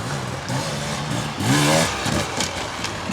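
A Beta dirt bike, a 2025 XTrainer or RR X-Pro, revs hard as its rear wheel spins on an autumn riding trail, a loud rising engine roar near the middle, then settling back to a steady run.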